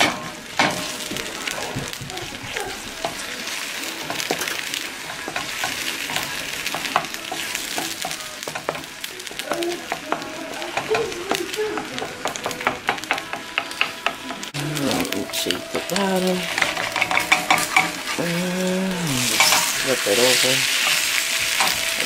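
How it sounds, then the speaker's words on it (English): Bacon and eggs fry in a pan at a family breakfast, a steady dense sizzle with clinks and scrapes of a utensil, getting louder and more crackly toward the end. "let's check on the bacon. Oh, that bacon is coming out nice. Alright, back to the eggs."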